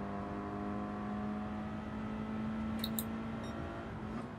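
A Porsche race car engine at Tsukuba Circuit in Gran Turismo 7 holds a steady, droning whine that sweeps slightly upward as it passes close by, loud and continuous with no talk.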